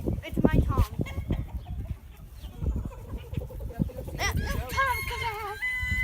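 A rooster crows loudly nearby, a long rising-and-falling call in the latter half, preceded by clucking and barnyard shuffling, with a person talking in the background.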